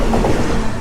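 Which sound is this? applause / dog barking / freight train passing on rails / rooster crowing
freight train passing on rails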